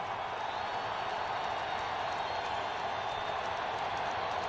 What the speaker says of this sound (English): Here comes the Neyland Stadium crowd on fourth down and 2.